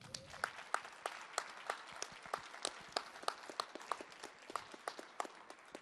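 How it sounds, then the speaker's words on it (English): An audience at a performing-arts stage show applauds performers with sparse, crisp individual hand claps from a small crowd, moderately close and fairly quiet, without talking. "Can we get these gentlemen a round of applause?"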